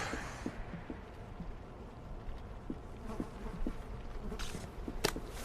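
Bees in the video game We Happy Few give a low, steady buzzing hum across the scene, faint and continuous, with small scattered clicks and a brief hiss near the start.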